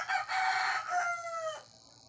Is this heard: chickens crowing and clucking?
yes